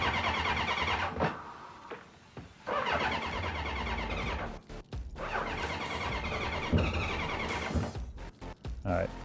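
The starter on a 1983 Honda CB1100F motorcycle cranks repeatedly without the engine catching, in several whirring bursts separated by short pauses, fairly close. A person talks over parts of it.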